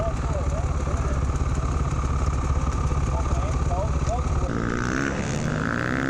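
A Beta 350 RR dirt bike engine drones steadily and close during a trail ride, with a continuous buzzing note whose pitch shifts near the end as the throttle changes.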